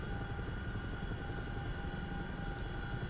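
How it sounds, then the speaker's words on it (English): A Chinook helicopter in a video game drones steadily with a continuous low rotor and engine hum, heard alone at moderate loudness. "this is a Chinook"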